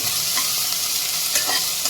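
Onions frying in oil with a loud, close, continuous sizzle and occasional stirring scrapes, no talking.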